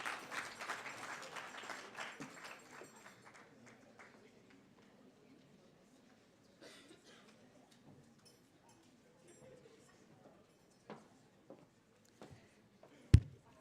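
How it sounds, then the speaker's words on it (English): Audience applause at an International Migrants Day debate finals event hosted by IOM Kenya, a dense burst of clapping at the start that thins and fades to scattered claps, with a sharp loud knock near the end. "Let's give her a warm round of applause."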